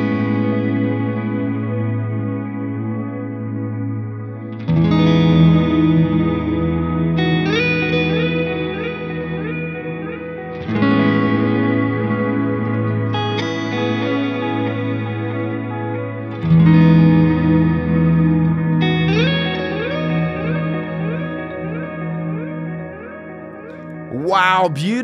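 Clean electric guitar chords ring out through a ping pong delay and reverb pedal, each strum blooming into wide, bouncing repeats and a long shimmering wash, several chords in turn with no voice.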